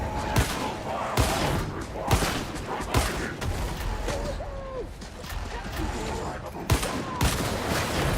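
Enemy gunners fire repeatedly in the video game Mars Power Sword, sharp gunshots cracking at irregular intervals over a dense, noisy backdrop of game effects and mechanical clatter.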